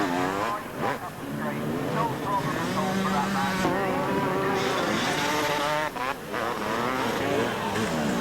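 Four-wheel cars and quads race along the sand at the 1994 Weston Beach Race, engines revving and rising in pitch as they pass one after another under a commentator's voice.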